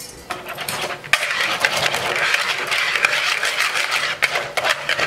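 A whisk beating Kaiserschmarrn batter in a bowl, a steady, busy scraping and clinking that runs almost without pause, close and fairly loud.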